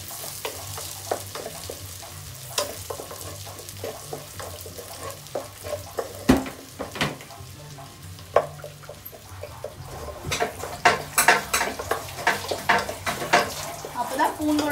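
About ten garlic cloves sauté in a pan: a continuous sizzle with frequent spatula clatters and scrapes that grow busier toward the end, over a low steady hum.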